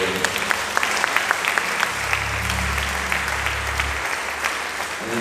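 A church congregation claps in praise during a Believers' Week service, a dense steady patter of hands with a low sustained tone droning underneath for a couple of seconds midway.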